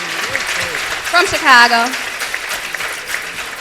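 Audience clapping rises briefly beneath a speaker's voice at a talk on police, prisons and the neoliberal state, a short swell of applause mixed with speech rather than a sustained ovation.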